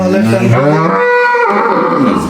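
A cow lets out one long, loud moo very close by, rising and then trailing off, at a cattle sale.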